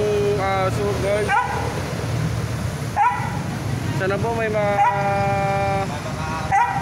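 A dog injured after being hit by a taxi whimpers and yelps in rising, wavering cries that recur throughout, close by, while a person talks over street noise.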